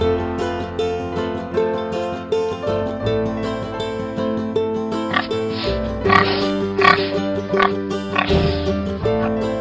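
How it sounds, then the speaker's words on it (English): A pig oinks and grunts in short bursts over continuous cheerful backing music, in a children's animal alphabet lesson. "Pig."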